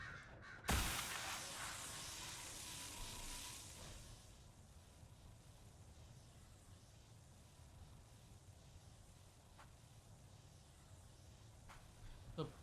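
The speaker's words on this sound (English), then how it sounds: "Excuse me, birds." Crows caw faintly in the video game Dragon Age: Inquisition, a few harsh calls over a quiet ambient hiss after a brief burst of noise. Someone speaks quietly in the background.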